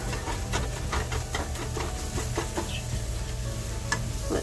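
Scrambled eggs sizzle in a hot pan while a utensil stirs them, with soft repeated scraping strokes over a steady frying hiss, close and moderately loud.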